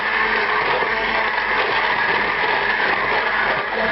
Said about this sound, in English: we're going to hit it with a stick blender here